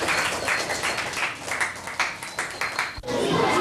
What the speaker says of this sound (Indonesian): Ya, tepuk tangan yang meriah untuk penampilan dari kelompok 3.